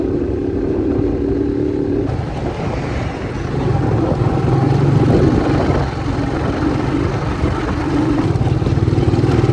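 A motorcycle ride along a road, heard as a steady engine drone blended with rushing wind noise that swells slightly midway and holds evenly throughout, with no voices.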